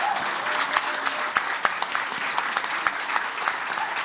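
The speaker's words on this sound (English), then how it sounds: "They deserve a big round of applause." An audience at a live show in a Chicago music venue applauds steadily, a dense, even wash of clapping with a few sharper individual claps standing out.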